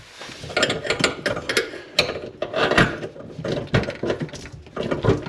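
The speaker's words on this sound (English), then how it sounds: "right on the end of it goes your little ratchet" A ratchet fitted with an extension turns a nut up behind a sink, giving rapid, close clicking strokes in a repeated back-and-forth rhythm.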